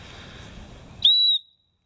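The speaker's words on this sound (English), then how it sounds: "It also has a whistle." The built-in whistle on a Leatherman Signal multitool gives one short, shrill, piercing blast lasting about a third of a second. It rises sharply out of a quiet hiss and then cuts off into silence.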